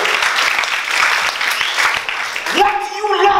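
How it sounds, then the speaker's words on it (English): A congregation claps in praise at a church gathering, a thick wash of many hands clapping at close range. Near the end a voice cuts in over the clapping. "Oh, you need to clap to the Lord at that point."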